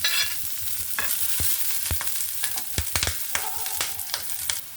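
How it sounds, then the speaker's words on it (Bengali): Chopped onion, garlic and green chilli frying in hot oil, a steady close sizzle broken by sharp scraping stirs of a spatula against the pan, no talking. "পেঁয়াজ কুচি দিয়ে দিচ্ছি রসুন কুচি কাঁচা মরিচ কুচি"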